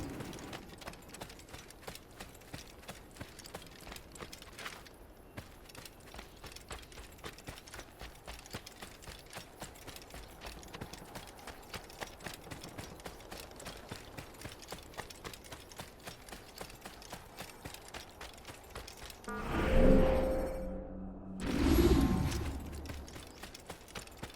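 Steady rhythmic hoof clip-clop of a horse in the Assassin's Creed 2 video game, continuous and moderately near, with a couple of louder whooshing bursts near the end.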